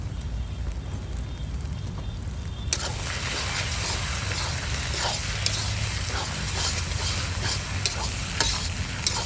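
Red Kashmiri chilli chutney fries in oil in a pan, a steady close sizzle that jumps louder partway through, with faint stirring scrapes and no talk.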